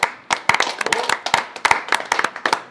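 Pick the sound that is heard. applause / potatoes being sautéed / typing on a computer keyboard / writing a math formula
applause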